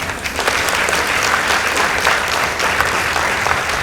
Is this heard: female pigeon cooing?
no